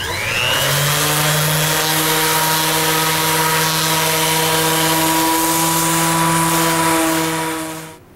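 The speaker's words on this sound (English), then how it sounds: "and then just sand it on top" An electric sander runs in a steady, loud droning whine, sanding the top of wooden scroll-saw puzzle pieces held together in their original block, and cuts off near the end.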